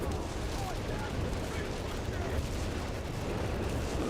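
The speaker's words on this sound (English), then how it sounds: "Just their entire side of the board is being saturated with heavy artillery." Heavy artillery barrage in the World War II strategy game Company of Heroes 3, a dense, continuous roar of overlapping blasts and rumble that stays loud and steady throughout with no clear gaps.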